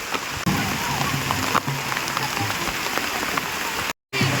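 Heavy rain drums steadily on surfaces nearby on a hilly walking route, a dense, loud patter with no letup apart from a brief dropout near the end.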